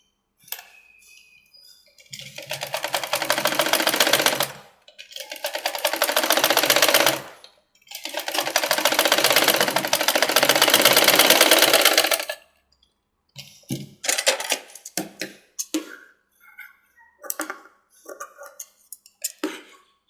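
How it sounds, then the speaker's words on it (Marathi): A sewing machine stitches a puff sleeve in three long, loud runs of rapid whirring, each stopping abruptly, followed by scattered light clicks and taps. No one speaks. "हा भाग शिवून घ्यायचा आहे आपल्याला इथून"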